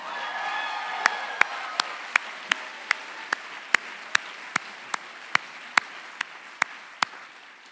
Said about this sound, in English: Let me just say that again and get another applause sign.